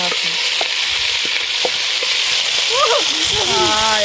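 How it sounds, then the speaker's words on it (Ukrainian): Onion and carrot fry with meat in a pot for Uzbek shurpa, giving a loud, steady, close sizzle throughout; a voice speaks briefly near the end. "Добавляем цибулю и морку. 5 минут обжариваем вместе с"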